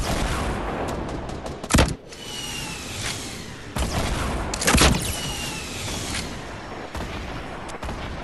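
Grenade launcher rounds fire and explode in Fortnite, several sharp loud blasts scattered across the clip, two of them heavier, over a constant gritty background of distant gunfire and battle noise.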